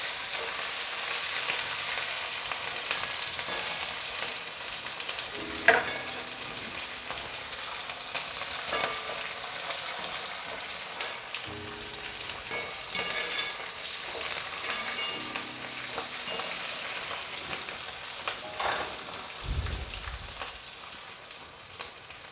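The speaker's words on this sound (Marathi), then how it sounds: "तेलामध्ये चांगली परतत आहे हिरवी मिरची, कोथिंबीर" Green chillies and coriander leaves fry in hot oil for crunchy puffed-rice chivda, giving a steady, close sizzle with occasional sharper crackles and spoon scrapes throughout, no voices.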